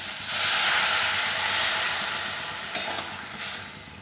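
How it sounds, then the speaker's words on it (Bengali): Water poured into a hot pan of fried vegetables while making a panchmisali mixed-vegetable dish gives a loud, broad steaming hiss that swells, holds and slowly fades, with a few small clinks near the end. "ভাজা হয়ে গেছে, এবার আমি জল ঢেলে দেবো।"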